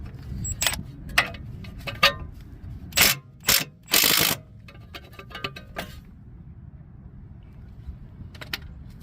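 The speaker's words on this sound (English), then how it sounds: "I'm going to use the impact." An impact wrench tightens the axle nut on a Toyota Corolla during a CV axle replacement, firing short loud rattling bursts amid clinks and ratcheting clicks in a garage, then fading to scattered faint taps.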